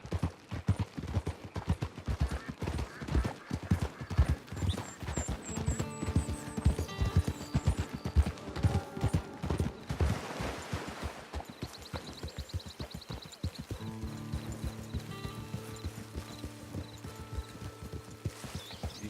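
Steady clip-clop of horse hooves throughout in the video game Red Dead Redemption 2, with a horse whinnying partway through and again later, over a soft ambient background.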